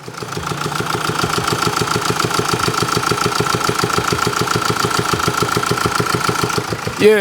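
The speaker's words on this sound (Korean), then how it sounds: "엔진 사망 직전의 소리입니다." A failing diesel car engine idles roughly with a steady, rapid knocking rattle, loud and close, running continuously without pause.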